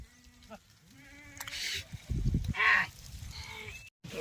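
Sheep bleat several times nearby, wavering cries with rustling and a bit of background noise between them, during four days of continuous drizzle.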